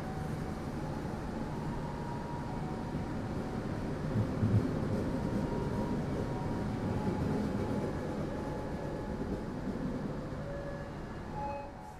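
A Ciremai passenger train running on rails in Indonesia, heard from inside the carriage. A constant low rumble and rattle of the wheels carries on steadily, rising slightly midway and then fading a little near the end.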